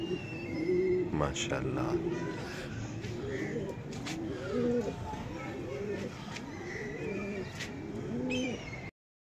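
Several pigeons coo in repeated soft, bubbling phrases against outdoor background noise, with a brief spoken word early on and faint chirps.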